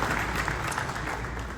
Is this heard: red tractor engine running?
no